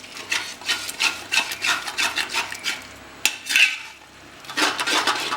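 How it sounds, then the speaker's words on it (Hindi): Chicken masala roasting over a high flame, heard as a steady run of scraping, rubbing strokes of a spoon against the pan with a few sharper clinks, close and fairly loud, with no talk. "आपने देखा कि हमारा जो मसाला है ये बढ़िया भुन रहा है।"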